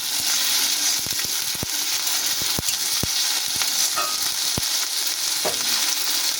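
Ginger-garlic paste fries in hot oil in a pan with a steady, loud sizzle, while a spoon scrapes and stirs through it in repeated sharp clicks and knocks, close up and with no talk.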